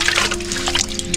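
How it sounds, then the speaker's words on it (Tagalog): Water is poured into a plastic check valve setup, a brief steady splashing trickle heard up close with no talk. "Kuha tayo ng tubig."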